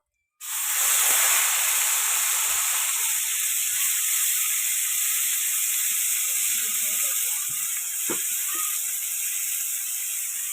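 Mustard-chilli paste of two kinds of mustard and green chilli dropped into a hot pan, bursting into a loud steady sizzle and hiss that starts abruptly and holds throughout with faint pops.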